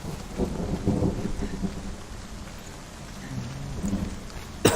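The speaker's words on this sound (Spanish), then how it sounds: "Se pone a llover." Rain and thunder in the video game Hellblade: a constant rain wash with deep rolling thunder rumbles swelling and fading, ending on a sharp crack.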